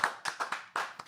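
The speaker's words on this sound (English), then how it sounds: "can we get a round of applause in the room for" A few hands clap in a room for a podcast milestone, roughly seven close, crisp claps in quick uneven succession, quiet and brief.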